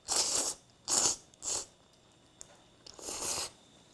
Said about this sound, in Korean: 이 집의 또 비결인 알타리를 얹어서 같이 한번 먹어보도록 하겠습니다.